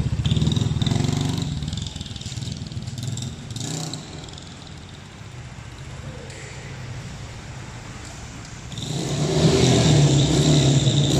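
A Honda Biz 150cc motorcycle runs on alcohol fuel with a freshly tuned carburetor. Its small engine revs loud and close, idles raggedly, then climbs into a strong rev near the end, with no talk over it.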